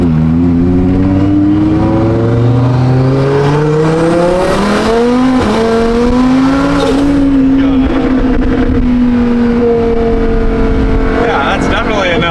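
Lamborghini Huracan on quad beadlock wheels revving while driving, the engine note climbing and falling through loud sustained pulls with a brief peak midway, heard up close alongside voices talking.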